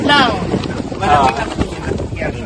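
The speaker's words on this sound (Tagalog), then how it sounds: "Pumapasok yung hangin sa loob." Loud wind buffets the microphone with steady rumbling gusts, while voices talk faintly underneath.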